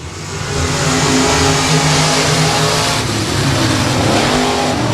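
Limited modified race cars in a heat race at Timberline Speedway, engines roaring loudly and continuously with rising and falling revs as the pack circles the track.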